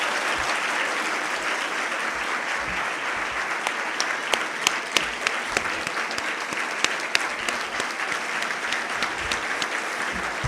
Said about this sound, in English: Loud claps.